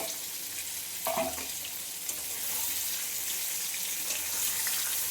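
Pointed gourd (potol) sizzles steadily in a frying pan, a soft, even hiss with a brief clink partway through as the lid comes off.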